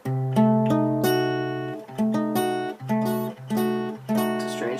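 A guitar strums a C fully diminished chord, fifth and first strings muted, ringing out in five separate strums with short gaps between them, close and clear.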